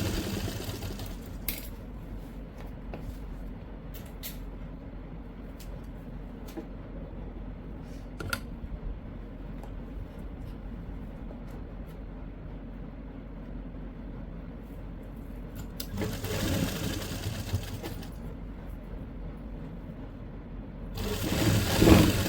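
A sewing machine stitching the sleeves of a co-ord set runs in a low continuous whir, with scattered clicks and two louder bursts of faster stitching near the end.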